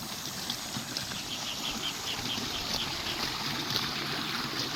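River water flows steadily beside a government housing area in Naic, Cavite, a continuous close rushing and trickling wash with no break over the few seconds.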